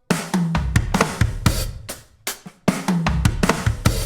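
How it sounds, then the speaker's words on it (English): A drum kit plays a short groove with a half-bar fill in 6/8, crisp cymbals and punchy kick and snare hits in a lilting triple feel. "the fill we're going to do here is going to be half a bar long in 6/8"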